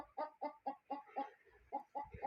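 A toy chicken sound plays a rapid, evenly spaced run of about nine bright clucks, close and clear against a quiet background.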